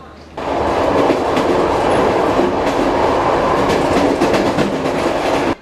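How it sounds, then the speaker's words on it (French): A passenger train running from Chengde to Beijing, heard from inside the carriage: a steady, loud rolling rumble with rhythmic clickety-clack of the wheels. The sound carries on without a break and no one speaks. "De retour à la gare de Chengde, nous embarquons dans le train pour Pékin."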